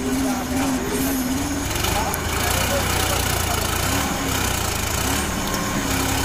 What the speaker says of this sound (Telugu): సో ఈ సోనాలిక 4-wheel డ్రైవ్ బండితో అయితే తీయడానికి ప్రయత్నం చేస్తున్నాం